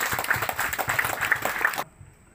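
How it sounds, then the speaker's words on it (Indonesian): An audience at a graduation ceremony applauds, a dense patter of many hands clapping together that cuts off abruptly near the end, leaving a faint tone. "Mari kita aplaus untuk kita semua"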